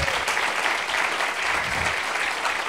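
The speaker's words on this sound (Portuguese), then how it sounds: "Salva de palmas." An audience at a data journalism conference in Brazil gives the production team a round of applause, with thick, continuous clapping throughout that stays even and fairly loud.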